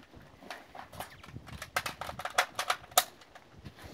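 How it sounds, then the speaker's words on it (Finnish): A magazine is fitted to a Sako 95 rifle on a shooting range, giving a scattered series of faint, sharp metallic clicks and taps. "Lipas kiinnitä."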